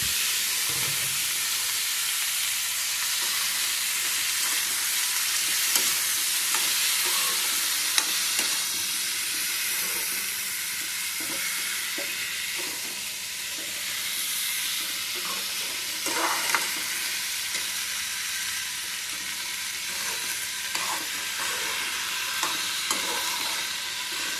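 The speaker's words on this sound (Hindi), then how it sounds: "सब्जी कम आंच में बनती रहेगी।" Vegetables cook in a pan over a low flame, giving a steady, soft frying sizzle with gentle hiss and occasional stirring scrapes throughout, close by, with no talking.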